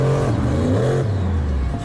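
Megalodon, Corey Rummel's monster truck at a Monster Jam All Star Challenge, roars loud and close as its engine revs and the pitch climbs and falls.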